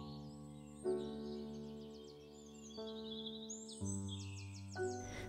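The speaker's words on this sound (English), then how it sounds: "and hear the birds singing." Birds sing softly in a meadow, with scattered chirps and short trills over a quiet background tone.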